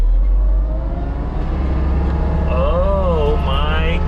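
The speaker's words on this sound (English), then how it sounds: "So when I throw this over to the side, it starts the drum." A rented forestry mulcher with its drum engaged runs loud and close, its engine holding a steady harmonic drone that climbs and wavers in pitch as the revs rise, with no other sound over it.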